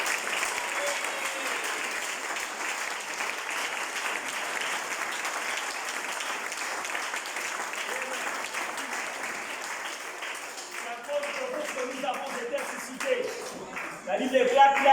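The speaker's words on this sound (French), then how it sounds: "Est-ce qu'on peut vous acclamer vous-même?" An audience at a church seminar applauds in a sustained round of clapping lasting about fifteen seconds, with a voice speaking over the applause as it tails off.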